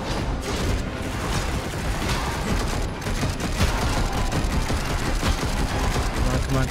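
Rapid, continuous bursts of gunfire in the Darksiders Genesis video game, a dense clatter of shots and impacts that runs without pause, with a voice heard only faintly underneath.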